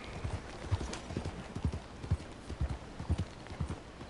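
Horse hooves clip-clopping at a brisk, uneven rhythm in Red Dead Redemption 2, close and fairly quiet, with no clear neigh heard.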